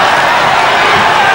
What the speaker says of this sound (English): The Filipino crowd goes wild.